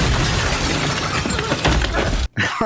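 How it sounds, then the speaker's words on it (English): A loud crash and shattering burst as Superman bursts in through a door in a film scene, dense and continuous, then a sudden brief drop to silence before noise resumes. "it starts out with Superman crashing, bursting in."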